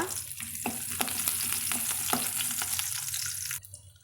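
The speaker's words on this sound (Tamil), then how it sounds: "சின்ன வெங்காயம் சேர்த்து நம்ம வதக்கலாங்க" Small shallots, halved, sizzle and crackle steadily in hot oil in a pan while being stirred with a few light clicks, frying for okra sambar; the sizzle drops away abruptly near the end.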